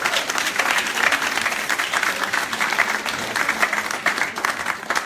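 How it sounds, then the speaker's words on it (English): A room of people applauds the shofar blower Ellie, steady and fairly loud clapping close by that continues without speech. "Can we have a round of applause to Ellie?"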